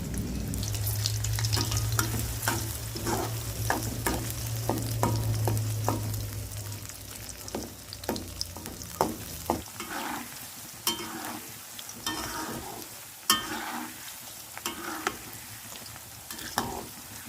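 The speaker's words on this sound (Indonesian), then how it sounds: "Kemudian goreng bawang merah, bawang putih, dan cabai rawit." Shallots, garlic and bird's eye chilies fry in hot oil with a steady close sizzle, broken by sharp clacks of stirring that continue as the sizzle gradually quiets.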